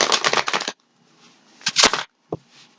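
Tarot cards riffle-shuffled up close in a quick flurry, then quieter handling, another brief riffle, and a single sharp tap of the deck settling.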